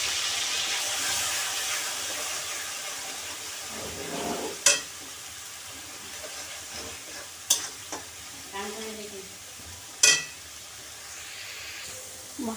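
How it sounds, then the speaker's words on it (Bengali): Spice paste sizzles in hot oil in a kadai for an aila fish curry with coconut milk. A steady frying hiss runs throughout, broken by several sharp clinks of a spoon stirring against the pan. "কড়াইয়ে যে তেলটা রয়েছে তার মধ্যে আমি মশলা পেস্টটা দিয়ে দিচ্ছি।"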